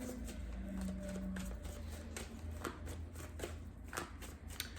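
Tarot card deck being shuffled by hand, soft repeated riffling and flicking of cards close up, faint and alone without speech.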